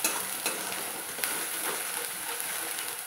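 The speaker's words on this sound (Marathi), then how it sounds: "ह्या मसाल्याला छानपैकी असं भाजून घ्यायचं आहे." Masala gravy roasting and stirred in hot oil for a shev bhaji curry, giving a steady close sizzle with soft scraping strokes of a spoon, no voices.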